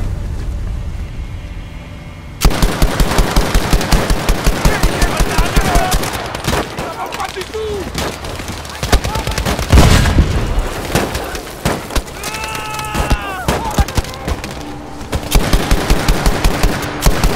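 Machine gun suppressive fire in a video game, loud rapid bursts of automatic gunfire that repeat through the scene with short gaps, mixed with shouted voices and other battle noise.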